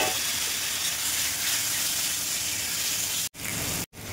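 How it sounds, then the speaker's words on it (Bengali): Taro pieces poured into hot oil with turmeric for a taro and dried fish curry give a loud, close, steady hiss of sizzling that cuts out briefly twice near the end. "এবার কচুগুলো ঢেলে দেবো।"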